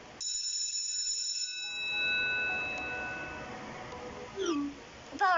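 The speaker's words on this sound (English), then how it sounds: "The bell just rang." A school bell in an animated series rings with a bright, sustained metallic tone that slowly decays, followed by faint voice-like sounds near the end.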